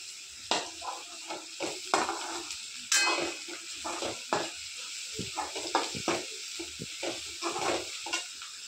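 Dal tadka fries in a pan with a soft, steady sizzle, broken by repeated scraping and tapping strokes as it is stirred, all close and fairly quiet, with no talking.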